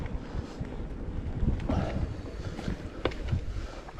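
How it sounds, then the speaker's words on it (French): Wind buffeting a microphone at the top of a lookout tower during a mountain-bike ride, a steady loud rushing roar with gusty low rumble and no talk. "Moi je suis tout en haut du belvédère, donc il y a quand même pas mal de vent."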